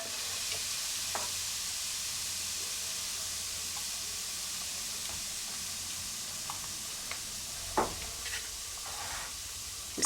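Ghee heats in a pan for kahk cookies, giving a steady soft sizzle and hiss with a few faint scrapes of stirring. It sounds close but quiet.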